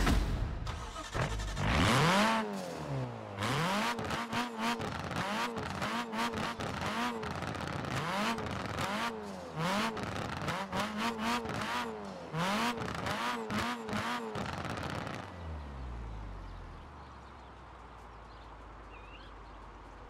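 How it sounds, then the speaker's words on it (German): A Nissan SR20DET engine in Forza Horizon 4 cranks to life, then revs repeatedly in rising and falling sweeps for about fifteen seconds before cutting off to a quiet idle-like hum. "wir starten den Wagen mal und hören uns an, wie der SR20 DET denn so klingt"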